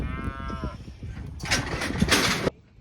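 Pregnancy-checked heifers moo loudly at close range, one long drawn-out bellow followed by clattering and rustling from the cattle handling.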